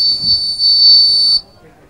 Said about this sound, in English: the buzzer sound